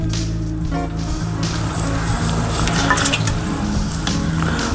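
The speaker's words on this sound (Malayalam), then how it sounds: "മുന്തിരിങ്ങ ഇതിലേക്ക് കോരി ഒഴിച്ചു കൊടുക്കണം." Grapes are scooped and poured into a container for homemade wine, a steady wet squishing and rustling with clinks of a utensil against the vessel, continuous and fairly loud throughout.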